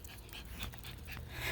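A new puppy whimpers and pants in soft, broken bursts over a steady low background hum, close by, with no talking.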